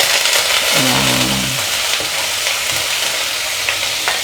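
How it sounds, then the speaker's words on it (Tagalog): Banana heart sizzles in hot oil with ginger, onion and garlic in a pan. A steady, loud frying hiss continues under occasional stirring scrapes, with no talking. "At isasama na rin nating igisa yung ating puso ng saging."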